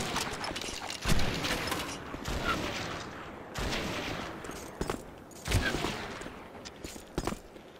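Gunshots from the video game Red Dead Revolver ring out as scattered loud cracks with clattering mechanical noise between them, spread over several seconds with no speech.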